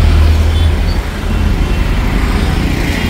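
Busy city road traffic with cars and motorbikes on a Sunday, a dense, continuous roar of nearby engines with low rumbling and no clear individual pass.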